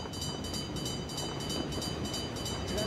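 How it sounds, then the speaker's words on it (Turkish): Two trains pass in a competitive video game, producing a continuous rolling rumble with a faint rhythmic rail clatter and a high electronic whine, steady and moderately loud throughout with no speech. "Oha, iki tren geliyor."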